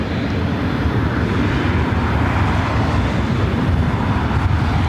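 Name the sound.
Southwest Airlines Boeing 737 MAX 8 arriving at LAX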